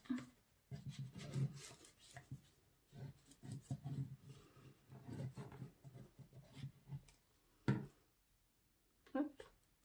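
Double-sided tape rubbed down by hand to fix it onto a drawer-unit panel, producing repeated scraping, rasping strokes in an uneven rhythm, close and fairly quiet, with a few sharper knocks.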